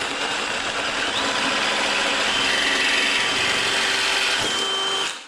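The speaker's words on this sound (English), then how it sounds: "I can see how this bit did not slip once during that drill" A power drill bores through a workpiece with a larger bit, its steady whine and grinding loud and continuous for about five seconds before stopping abruptly.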